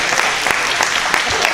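Audience applause at a charity telethon fundraiser, a short burst of dense, loud clapping filling the room.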